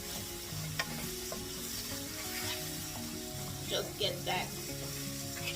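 Ground beef sizzles and crackles in a hot pan while a utensil stirs it for a Nigerian meat pie filling, with scrapes and clatters over steady frying and a few brief spoken words.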